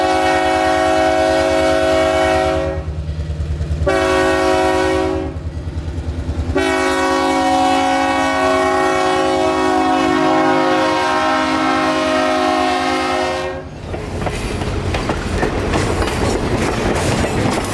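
A heritage train at the Florida Railroad Museum sounds its new horns in long, loud, sustained blasts broken by short gaps, over the steady rumble and clatter of the moving train, with no talk.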